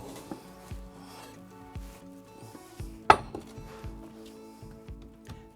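A hot pan of overnight oxtail is handled coming out of a wood-fired oven, with scattered metallic knocks, scrapes and clinks and one sharp clang midway, close and fairly quiet.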